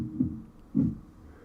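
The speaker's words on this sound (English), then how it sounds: "The second button gives me a heartbeat." Two soft, low heartbeat thumps about half a second apart from a sound-effect button on a Tascam MiniStudio Creator, muffled and close, over a faint hum.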